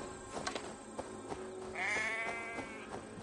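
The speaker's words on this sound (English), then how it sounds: "Sounds like a sheep, and not a happy one." A distressed sheep in the video game Assassin's Creed Valhalla gives a long, wavering bleat, preceded by sparse clicks and thumps of in-game ambience, with no talk over it.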